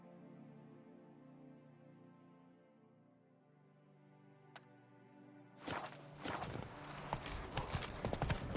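Roach the horse's hooves in The Witcher 3 start up suddenly after a quiet, humming stretch, breaking into a loud, quick run of clip-clopping hoofbeats that keeps going to the end.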